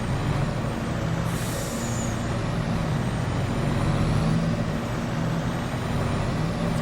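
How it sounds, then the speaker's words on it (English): A heavy American truck in the farming game Farming Simulator 22 drones with a steady low engine rumble, and a sharp hiss of air brakes cuts in briefly near the start while the engine noise stays loud and constant. "It's a beautiful lorry."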